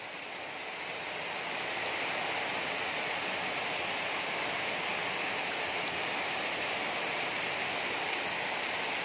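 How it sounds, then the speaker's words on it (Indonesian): Steady rain falls during the dry season near durian trees, a dense, even hiss of drops that swells in over the first second or two and then holds at a constant, fairly loud level without any voices. "Kemarau tapi masih turun air hujan."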